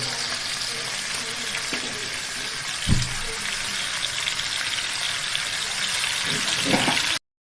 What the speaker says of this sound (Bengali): মাংসটাকে এবার ভেজে নেওয়া হচ্ছে ভালো করে